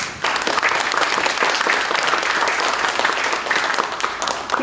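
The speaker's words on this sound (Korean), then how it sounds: "박수 한번 치시죠." An audience at a company's 30th anniversary gathering gives a dense, sustained round of applause, loud and steady throughout with no talking over it.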